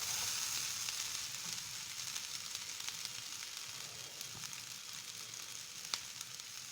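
Mushroom fried rice ingredients fry in a pan, a faint, even background sizzle with a couple of small clicks, heard alone without voices.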